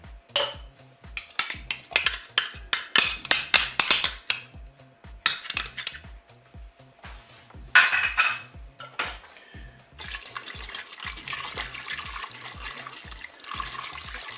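A plastic whisk mixes mustard in a Cookeo pot, making rapid rhythmic scraping and tapping strokes against the pot, loud in bursts and then giving way to a steadier wet swishing.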